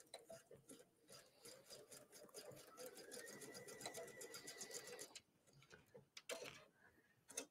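A sewing machine zigzag-stitches elastic, its needle ticking in a fast, even close rhythm for about five seconds, then a few short bursts of stitching near the end.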